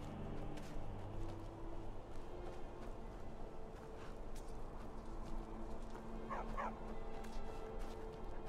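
Dogs in the video game Skyrim bark faintly, a few short distant barks around the middle and later part over a steady low game ambience.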